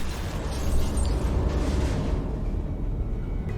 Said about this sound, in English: and then this whole train just comes down, and then you get these crazy Michael Bay explosions